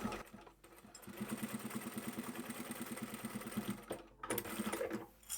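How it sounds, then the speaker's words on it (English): A sewing machine stitches close to the edge along the side seam of a drawstring bag's lining, a quiet, steady motor hum that runs for a few seconds and then stops briefly before resuming. "pull the outer fabric out, and sew really close to the edge"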